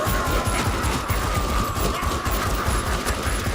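Rapid gunfire crackles continuously in an anime action scene, a dense fusillade of overlapping shots mixed with loud, busy background sound.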